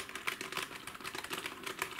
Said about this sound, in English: This is the generic keyboard that comes with most PCs.